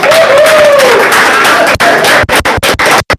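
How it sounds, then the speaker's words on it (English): An audience applauds a volunteer named Brian with loud, dense clapping and crowd noise, and a whistle rises briefly at the start before the clapping breaks into a few sharp final claps. "Give Brian a round of applause."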